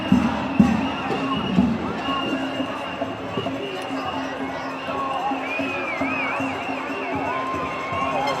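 A dense crowd of protesters fills a London street, a continuous murmur of many voices with scattered shouts and a few louder bursts near the start, people talking close by over it.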